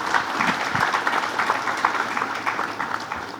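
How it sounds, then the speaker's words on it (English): Lively clapping from a conference audience thanking a panel on sustainable transport, a steady, fairly close round of many hands that thins slightly toward the end. "You can prove it by clapping for them."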